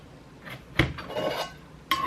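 Metal backpacking cookware clanks and clinks as pots and a frying pan are nested together, with a sharp knock near the start and another at the end amid softer scraping.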